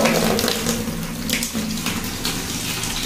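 Water running steadily from a tap in a home bathroom, a continuous close rushing splash with no talking.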